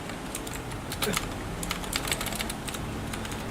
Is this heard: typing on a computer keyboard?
yes